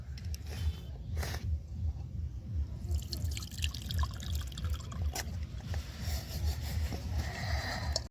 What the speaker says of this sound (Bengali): এবারে ছানাটা আমি ছেঁকে নেব।